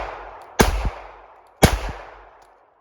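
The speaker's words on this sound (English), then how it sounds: "So the first 3 shots are gonna be the aluminum casings." Two sharp, loud Glock pistol shots fire aluminum-cased ammunition about a second apart. Each crack is close and carries a short echo tail.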